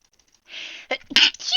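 A single sharp human sneeze bursts out close by, followed by a brief breathy aftershock and some movement noise, heard alone without talk.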